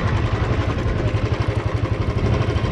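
A motorcycle engine running near a riverbank, a steady low throbbing drone with a regular pulsing rhythm, close and continuous with no talk.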